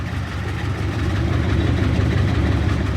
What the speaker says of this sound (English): the throwout bearing doesn't spin as quick as the motor and makes a little rattle